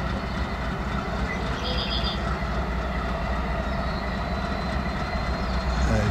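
A train on the Hi-Line route begins to move, a steady broadband rumble of rail cars holding at an even level throughout, swelling slightly at the end, with no talk.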